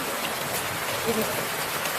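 Heavy rain falls in a steady, dense hiss of drops hitting surfaces, close and continuous, with a faint voice briefly under it.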